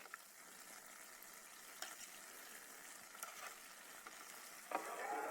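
Cinnamon rolls deep frying in oil on a backcountry desert camping trip, a soft, continuous bubbling sizzle with occasional brief crackles and splashes, fairly quiet and heard alone.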